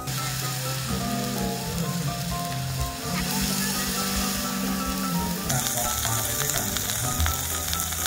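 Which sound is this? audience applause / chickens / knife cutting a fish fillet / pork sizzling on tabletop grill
pork sizzling on tabletop grill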